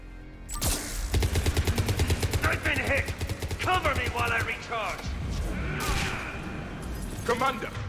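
Rapid automatic gunfire from a Mass Effect 3 firefight on Thessia, a dense sustained burst of shots with impacts and crashes, loud and close, while voices shout over the battle.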